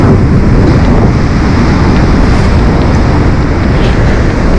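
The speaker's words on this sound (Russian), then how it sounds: "Дует ветерок." Steady wind gusting across a seaside pebble beach at Lazarevskoye near Sochi, a continuous loud broadband rush with waves mixed in, no voices heard.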